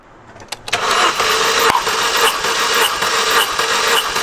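A Vauxhall Astra engine cranks on the starter during a compression test of cylinder three: a sharp start, then loud, steady, pulsing churning for several seconds with no talk.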